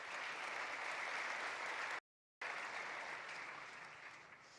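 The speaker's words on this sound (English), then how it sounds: "So let's give them a warm round of applause" Audience applause at the opening ceremony of the GCF Annual Meeting 2025, steady dense clapping from a large crowd that breaks off briefly and then resumes, tapering slightly toward the end.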